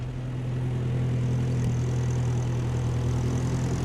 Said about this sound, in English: I'm gonna let you see him come up on this tractor.